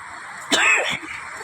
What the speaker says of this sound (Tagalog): Sama ng ubo ko.